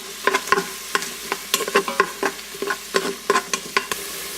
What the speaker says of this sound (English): we're just going to let these cook for a while until the onions are nice and brown